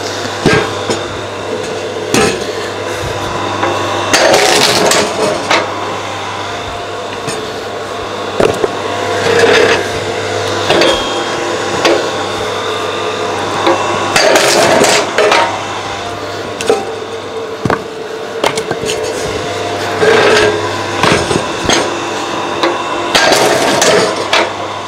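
A ForestWest 15-ton electric log splitter works through firewood. A steady electric motor hum runs underneath while loud cracking and splintering bursts come roughly every five seconds as each log gives way.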